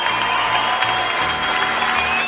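A CrossFit Games crowd cheers and applauds loudly and continuously, a dense roar of clapping and shouts close around, with no clear speech over it.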